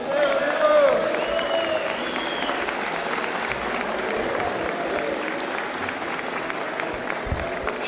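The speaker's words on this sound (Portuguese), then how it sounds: "uma grande salva de palmas para o nosso presidente" Applause fills the Brazilian Chamber of Deputies after a pension reform vote, a dense, steady roar of many hands that holds loud throughout, with voices shouting and talking mixed into the crowd.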